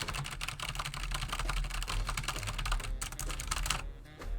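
Loud laptop keyboard typing clatters steadily and close, a dense run of rapid keystrokes with no voices over it.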